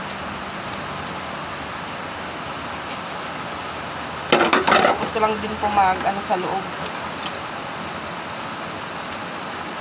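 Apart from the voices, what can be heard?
heavy rain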